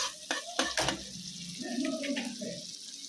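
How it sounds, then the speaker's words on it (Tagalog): Garlic fries in margarine in a pan as it is stirred, a soft steady sizzle close by, with a few spoon scrapes and clinks early on and no talking. "haluin lang natin siya hanggang sa medyo matoasted ng konti si garlic"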